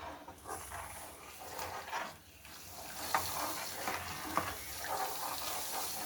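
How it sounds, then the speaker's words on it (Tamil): Wheat halwa cooks in a pan as sugar is stirred in, giving a steady soft sizzle with intermittent scraping and stirring strokes and a few sharper clicks, close and fairly quiet, with no talking. "சர்க்கரை போட்டு நல்லா கிளறிண்டே இருப்போம்"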